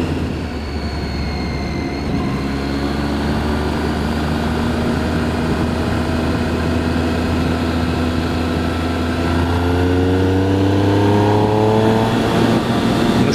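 Triumph Street Triple 675 motorcycle engine pulling hard in sixth gear, a loud, close, steady drone whose pitch climbs smoothly as the bike accelerates, with wind noise mixed in.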